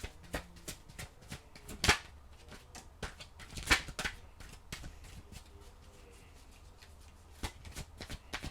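Tarot cards shuffled by hand, a run of quick riffling flutters and sharp slaps with two louder bursts, close up and on their own with no talk.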